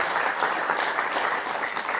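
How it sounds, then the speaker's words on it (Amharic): An audience breaks into a short burst of dense, steady clapping that stays loud and even from start to finish, with no voices over it. "እስቲ አጨብጭቡለት።"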